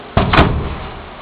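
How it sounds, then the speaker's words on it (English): An electronic password door lock releasing as the door opens, giving one sharp clunk followed by a second softer knock, then a fading rattle, close and alone. "The password is okay, and the door is opening."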